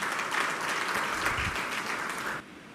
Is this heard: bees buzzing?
no